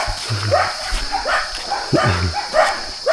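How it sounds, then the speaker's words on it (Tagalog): Several dogs bark and yip repeatedly and fairly close along a path to a cave in the countryside, with barks overlapping in uneven bursts. "Daming aso."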